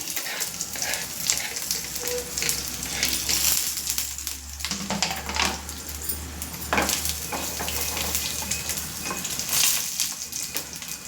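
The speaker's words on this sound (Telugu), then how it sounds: "జీలకర్ర ఆడుతుంది అందులోన అల్లము కట్ చేసుకున్న అల్లము చిన్న ముక్క తర్వాత మిరపకాయలు ఒక నాలుగైదు వేసుకుని బాగా ఫ్రై చేసుకుంటున్నాను" Cumin seeds, ginger and chillies fry in hot oil, giving a continuous sizzle with crackling pops. Scattered clinks and stirring noises sit on top of the sizzle.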